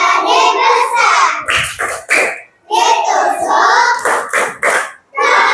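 A group of young children performs the tepuk balon clapping chant in class, loud nearby voices in rhythmic bursts punctuated by hand claps, with short gaps between phrases.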